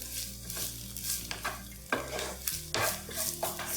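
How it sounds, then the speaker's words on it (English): Finely chopped mushrooms sautéing in a creamy mixture in a pan, a soft steady sizzle with scraping stirs of a utensil, close and fairly quiet. "I have some finely chopped mushrooms, which I will now saute in this beautiful mixture"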